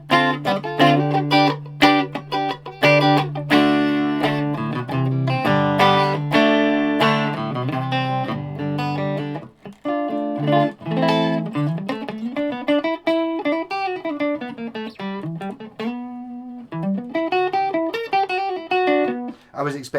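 Hofner Colourama electric guitar from 1961/62 played through an Orange TH30 amp with a reverb pedal, strummed chords and then bending single-note lines, loud and continuous with a slightly gritty tone.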